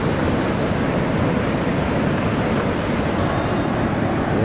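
Ocean waves wash continuously onto Sunset Beach in Santa Cruz at sunset, forming a loud, steady roar of surf mixed with wind buffeting the microphone, with no voices.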